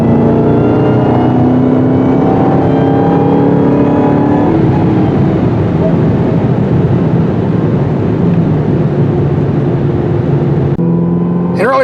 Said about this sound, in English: Getting this vehicle to launch from a standing stop isn't that easy because of traction problems.